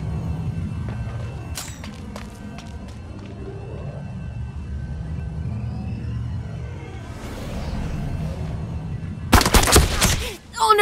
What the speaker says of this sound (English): Shots heard!